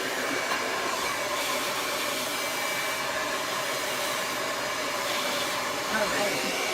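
Hair dryer blasting air steadily at the hair roots during a round-brush blow-dry, a loud continuous rush that stays constant throughout.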